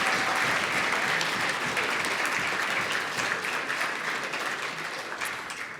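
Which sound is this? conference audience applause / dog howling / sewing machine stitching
conference audience applause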